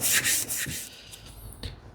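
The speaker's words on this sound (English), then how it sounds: "I will just grind off that edge." Grinding the edge of a vintage hand plane blade, a close abrasive rasping that starts loud and gradually fades over a couple of seconds, with a few short scraping strokes.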